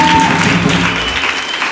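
A church congregation applauding loudly and steadily, a dense close wash of clapping with voices faintly mixed in.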